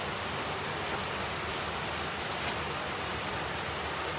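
Steady rain falling outside, heard as an even, continuous hiss of drops on surfaces with no talk over it.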